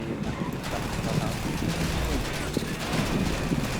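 Gunfire in GTA V Online during a heist shootout: a steady stream of shots and bursts crackles at moderate distance, blending with game noise while someone talks excitedly over it.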